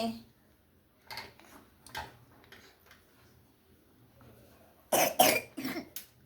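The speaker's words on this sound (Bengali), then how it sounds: "কাশছো কত দেখেছো?" A child coughs at close range, with a few scattered coughs early on and then a loud cluster of harsh coughs near the end, against an otherwise quiet room.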